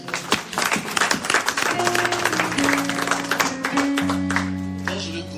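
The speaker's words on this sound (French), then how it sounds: "On acclame très fort le Seigneur." A church congregation claps and cheers for the Lord during a service, with a loud burst of applause at first that gives way to sustained organ or keyboard chords as the clapping thins out.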